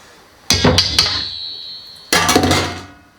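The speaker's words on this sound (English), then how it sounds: "I'm just gonna clean my whisk off into here" Metal whisk tapped against a bowl to knock cheesecake batter off: a loud cluster of three ringing clanks, a pause, then another ringing burst, close up with no talk.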